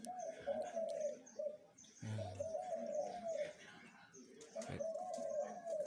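A newly caged dove hung in a coconut tree in front of a house coos in repeated rolling phrases, with a few brief chirps from other birds in the background.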